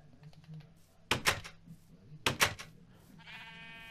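Sheep bleat in the Minecraft video game, two loud wavering calls about a second apart over quiet game sounds, with a bright tonal effect at the end.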